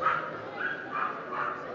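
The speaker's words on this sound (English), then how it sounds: "Oh my god, that yappy fucking dog again." A small yappy dog barks in a quick run of four short, high yips at a moderate distance, with no talking over it.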